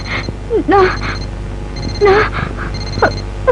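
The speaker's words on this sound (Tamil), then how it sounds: "அலாரம் வச்சு அலாரம் அடிக்கதான் செய்யும்" A small electronic wristwatch alarm beeps in repeated bursts at a steady rhythm, close by, with a voice speaking between the beeps.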